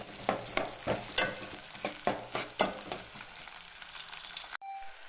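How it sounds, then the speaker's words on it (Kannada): Onions fry in hot oil for chicken fry in a home kitchen, with a steady sizzle broken by rhythmic spatula stirs about every half second, then a sudden cut to a quieter hiss. "ಎಣ್ಣೆ ಕಾದಿದ್ದಕ್ಕೆ ಈರುಳ್ಳಿ ಹಾಕೋತಾ ಇದ್ದೀನಿ ಇದನ್ನು ಚೆನ್ನಾಗಿ ಫ್ರೈ ಮಾಡ್ಕೋತಾ ಇದ್ದೀನಿ"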